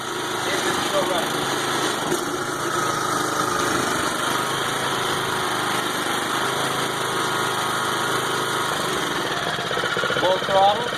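Steady, close drone of a Kubota WGC6-21 push mower's small engine running continuously without a break, loud and even throughout.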